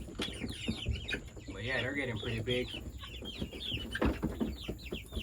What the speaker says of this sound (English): A nice little bunch of chickens.